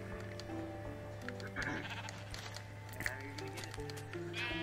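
Blocky sheep in the Minecraft survival game give a few short bleats over steady game music, with someone talking casually throughout.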